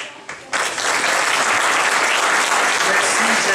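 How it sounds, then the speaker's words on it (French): An audience at a magic festival bursts into applause after a brief pause, sustained loud clapping filling the rest of the moment. "on applaudira les magiciens à chaque fois qu'ils passeront"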